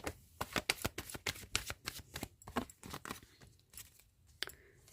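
Tarot cards being shuffled and drawn by hand, a rapid run of crisp flicking riffles and soft slaps, close and clear with no talk over it.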